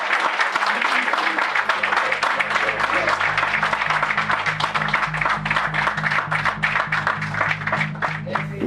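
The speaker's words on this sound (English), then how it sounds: "I want to get a loud round of applause for Brandon Carter." An audience gives a loud round of applause as a guest is welcomed onto a stage, with dense sustained clapping throughout and low music or crowd murmur underneath.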